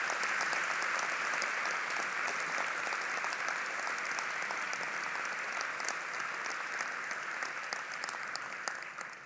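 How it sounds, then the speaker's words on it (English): Graduation ceremony crowd gives sustained applause for gold medalists, a broad, even roar of many hands clapping that holds for over nine seconds before easing slightly at the end. "Ladies and gentlemen, please give a big round of applause for all our gold medalists."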